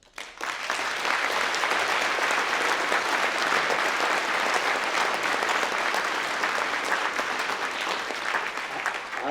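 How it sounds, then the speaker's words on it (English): An audience at a panel event gives a sustained round of applause, dense and loud from the first moment and holding at an even, unbroken level throughout, with no voices heard. "they deserve a round of applause."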